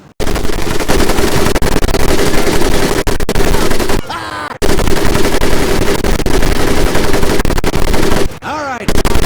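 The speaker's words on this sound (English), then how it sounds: "M1919A430 caliber machine gun." M1919A4 .30 caliber machine gun firing in Medal of Honor Pacific Assault: loud, continuous automatic fire in long unbroken bursts, with two brief pauses where ringing and whizzing game effects come through.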